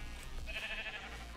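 Sheep in the Minecraft video game bleat once, a short nasal call in the middle of steady game background noise, with no talking.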